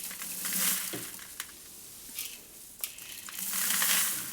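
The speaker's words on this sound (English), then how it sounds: "then scooping from the back some black oil sunflower seeds, and then scooping in some oats" Black oil sunflower seeds and oats are scooped and mixed together into animal feed, giving soft rustling scoops and a few brief grainy pours and clicks, fairly close and without talk.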